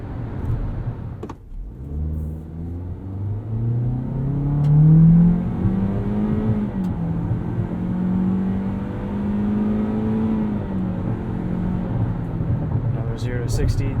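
A 2022 Toyota Corolla Cross XLE AWD pulls hard from a standstill to 60, its engine drone rising and holding through the run, heard from inside the cabin with tyre and road noise underneath.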